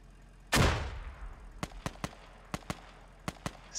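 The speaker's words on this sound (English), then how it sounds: "Some grenades being thrown." A heavy grenade blast in Squad booms loudly and rumbles away, followed by a scattered series of sharp, dry cracks at irregular intervals.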